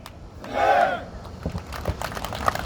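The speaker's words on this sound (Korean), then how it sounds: "힘찬 환호와 박수 다시 한번 부탁드립니다" A crowd at a labor union solidarity rally cheers with a loud collective shout that peaks and fades, followed by scattered clapping and murmuring voices.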